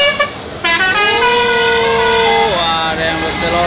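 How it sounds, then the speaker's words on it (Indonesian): A truck's telolet horn plays a loud, wavering musical tune on a mountain road, the tones bending down and back up over a few seconds amid engine noise. "Ada yang berkelolet"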